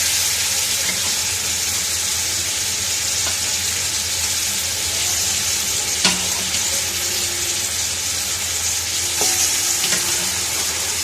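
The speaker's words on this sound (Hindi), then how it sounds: "पहले इसको भूनना है मसाले में थोड़ा सा।" Beef on the bone for yakhni pulao fries in spices with a steady, close sizzle and faint stirring clatter, a few soft scrapes and taps breaking the continuous hiss throughout, with no talking.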